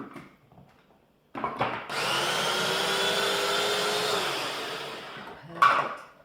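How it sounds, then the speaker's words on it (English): A blender whirring through broccoli pesto, with a few short pulses and then one sustained, loud motor run of about three seconds that stops with a final clunk, close by with no talk. "Just going to mix it up a little bit more and blend it one more time."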